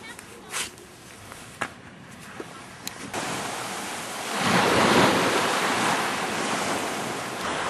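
Ocean surf rolls onto an Australian beach, a broad wash of waves that swells louder midway and stays heavy, mixed with gusty wind buffeting the microphone; a few faint knocks come early.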